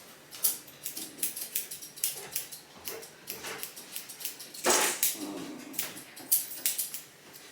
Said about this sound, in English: we just scissored his legs this time instead of trying to shave his legs